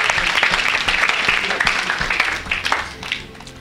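Applause from a church congregation during a worship service, a sustained wash of clapping at moderate distance that tapers slightly toward the end, with voices blending in.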